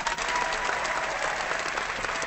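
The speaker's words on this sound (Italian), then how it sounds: "Applauso" A small group in a room gives steady, dense applause, with continuous close clapping and no voices over it.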